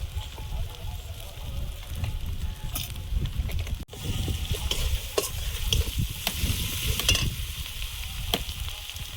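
A fish head sizzles and fries in hot oil while being stirred through turmeric and coriander powder; a steady, loud crackling hiss runs the whole time, with scraping stir strokes and a brief dip partway through.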